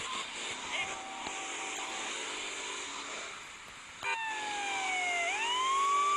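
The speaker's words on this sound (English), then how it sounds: "Whoop whoop, that's the sound of the police." A police car siren in the video game Grand Theft Auto III wails, rising and falling steadily, fairly loud and close, with a continuous engine-like hum underneath; no voices stand out.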